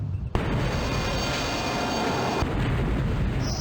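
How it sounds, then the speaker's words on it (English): A torpedo detonation in the submarine game Silent Steel hits after a brief quiet gap as a sudden deep boom, followed by a sustained rumbling roar that holds steady for several seconds. "Set 65 detonation, sir."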